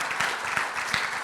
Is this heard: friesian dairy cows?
no